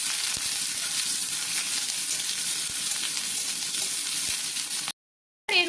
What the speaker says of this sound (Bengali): পেঁয়াজ হালকা ভাজা ভাজা করে নেওয়া হবে।